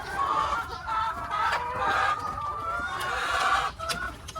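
Chickens cluck, squawk and scuffle in a fight among laying hens, with close, agitated, overlapping calls that rise and fall for several seconds.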